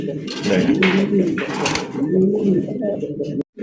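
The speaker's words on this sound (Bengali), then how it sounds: "কবুতরে ভাই কবুতর কথা বলে" Fancy high-quality pigeons in a collection cooing continuously, with steady, close, overlapping low throaty coos rising and falling throughout.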